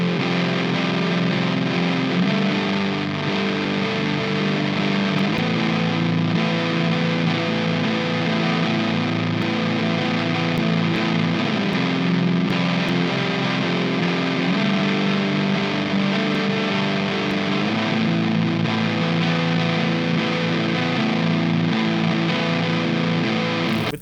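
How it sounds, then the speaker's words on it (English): Fuzzed-out, heavily distorted guitar playing a chord riff through a Super Chainsaw 100 amp-sim preset, a dense wall of sustained chords changing every few seconds, loud and continuous with no voices. "we have a super dope guitar tone, and the riff that I came up with for the chords sounds like this"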